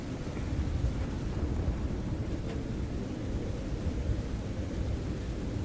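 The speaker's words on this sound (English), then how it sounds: "there's a storm coming" A thunderstorm sound effect gives a continuous low rumble of rolling thunder and rain hiss, moderately loud and steady, with no voices.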